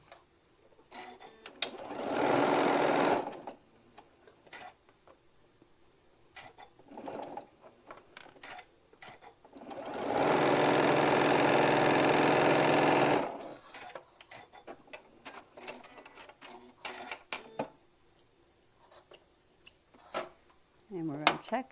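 Sewing machine stitching along a drawn line on a quilt block, two loud steady whirring runs of a few seconds each, separated by quieter handling clicks and fabric rustles.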